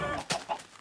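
A Minecraft chicken gives a few short clucks, close and clear, in a quick burst with no talking over it.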